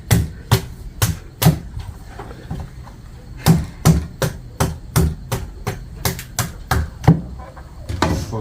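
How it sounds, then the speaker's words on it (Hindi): A knife chops open an orange coconut at home in Suriname with a run of sharp, hard whacks in uneven rhythm, loud and close, with short pauses between bursts of strikes. "इससे पहले येलो वाला कोकोनट काटा था और अब ऑरेंज वाला काटा जा रहा है।"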